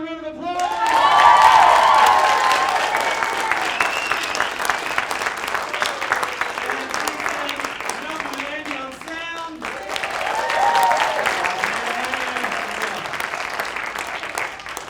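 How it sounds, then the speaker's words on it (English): Audience applause for performers at a Rocky Horror-style show, a loud, steady wash of clapping that swells early, dips briefly, then rises again, with some voices and cheering mixed in. "Give them another round of applause."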